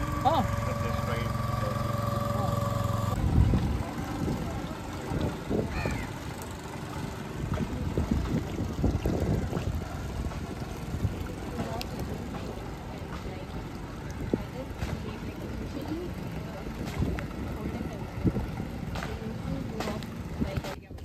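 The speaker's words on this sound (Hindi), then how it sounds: "तो हमारा बोट राइड फाइनली खत्म हो गया है।" A motor boat on the Alleppey backwaters in Kerala, an idling engine rumble at the start giving way to softer water movement and ambient outdoor noise, with voices talking faintly at times.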